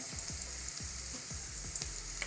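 Chopped onion with a pinch of salt sizzles steadily in a pan for a Kerala-style chickpea curry, a close, continuous frying hiss with a few soft stirring scrapes.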